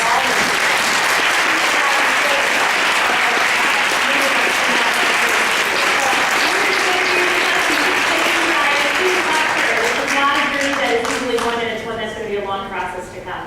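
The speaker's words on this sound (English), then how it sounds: "I think you guys have to give Linda a round of applause for standing up." Sustained applause from a crowd, loud and steady, with a voice speaking over the clapping before it thins out near the end.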